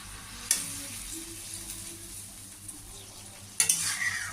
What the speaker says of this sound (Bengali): এবার আমি জল দিয়ে দেবো এবার আমি মাছগুলো দিয়ে দেবো তার সাথে আমি চেরা কতগুলো কাঁচা লঙ্কাও দিয়ে দেবো